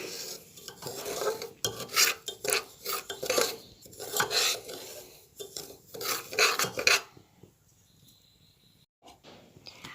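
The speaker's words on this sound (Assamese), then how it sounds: "এয়া দি দিলোঁ বাদামখিনি আৰু লগতে খিচমিচ কেইটামানো দি দিলোঁ আৰু ভালদৰে লৰাই থাকিম ৰঙচুৱা পৰালৈকে" A spoon scrapes and rasps against a pan as semolina with peanuts and raisins is stirred, loud rhythmic strokes for several seconds that stop abruptly and give way to near quiet.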